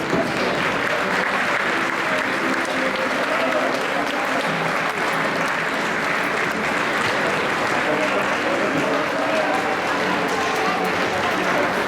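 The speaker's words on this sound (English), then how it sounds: "please remain seated and clap for our students as they exit" An audience at an eighth-grade graduation ceremony claps steadily as the graduating students exit, with dense, sustained applause from a large crowd filling the hall throughout.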